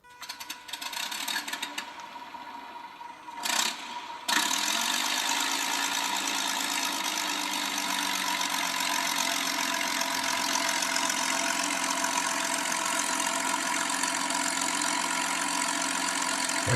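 A P-40 model aircraft engine starts after a few seconds of sputtering and cranking, then settles into a loud, steady, buzzing drone that runs close and unbroken to the end.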